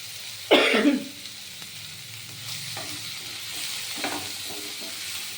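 Brinjal and vegetables sizzle and fry in a pan with turmeric, a soft steady hiss with occasional stirring scrapes, broken early by a loud cough and a later throat sound nearby.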